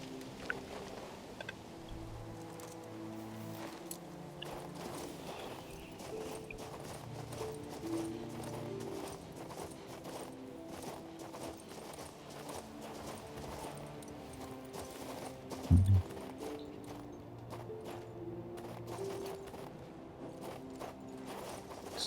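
Horse hooves clip-clopping in a steady, quick rhythm while riding in the video game King's Bounty II, faint and continuous, with a soft thud partway through.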